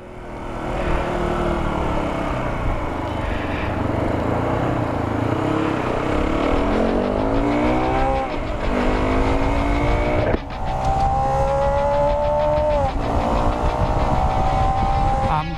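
Motorstar Z250R adventure motorcycle accelerating hard on a test ride, its engine climbing through rising revs with a gear change partway through and then pulling up again, loud and close, with no talking.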